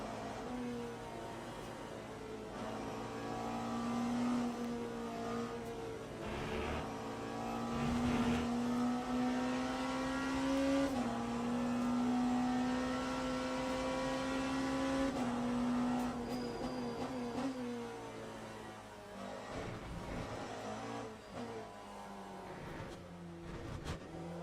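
A race car engine in the Le Mans Ultimate sim holds a steady high drone, rising slowly in pitch, then drops sharply on gear changes and climbs again, loud and continuous with no talk.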